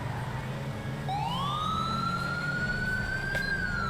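Police car siren in a video game wailing as a clear rising sweep that climbs and holds steady, loud and continuous over a low rumbling engine-like drone, with no talk.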